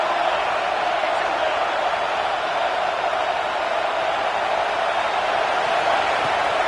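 Football stadium crowd roaring in support of the home defense during a college football game, a dense, continuous wall of noise with no breaks, loud and sustained.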